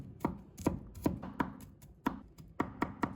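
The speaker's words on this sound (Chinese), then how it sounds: "再切成小粒" A knife chops garlic into small pieces on a cutting board, about a dozen crisp, close knocks in an uneven rhythm.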